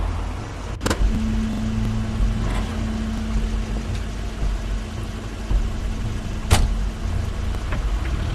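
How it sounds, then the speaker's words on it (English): A car in the adventure video game The Wolf Among Us pulls up with a steady engine hum, broken by a few short thuds and clicks that could be doors, with no talk. "That's Crane's car."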